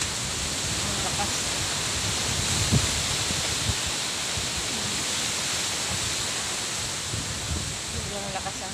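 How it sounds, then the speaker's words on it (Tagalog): Strong wind from Typhoon Opong roars as a steady, dense broadband rush with rustling, near and constant, with faint thumps. "Sobrang lakas ang hangin."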